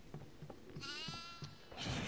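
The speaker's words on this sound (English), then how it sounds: "Oh, I heard a goat." A goat bleats once in the horror video game Devour, a wavering, drawn-out cry over a low, steady in-game background hum, with faint thumps around it.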